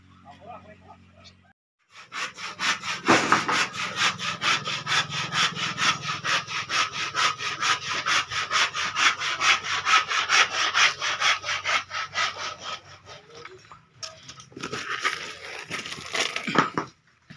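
A hand saw cuts through wood on a house construction site, with fast, loud back-and-forth rasping strokes for about twelve seconds after a quiet start, then a pause and a shorter burst of sawing near the end.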